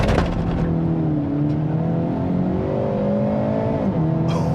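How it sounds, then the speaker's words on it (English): A 2024 Hyundai Elantra N, a front-wheel-drive sport compact sedan, launches hard with a loud, rising engine roar through the gears, heard up close without talk. "Now, you guys heard it had a little bit of wheel hop."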